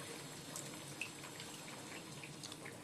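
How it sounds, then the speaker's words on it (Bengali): A little water pours into a cooking pot in a home kitchen, a soft steady trickle with faint splashes, quiet and brief, with no talking. "একটুখানি জল দিলাম"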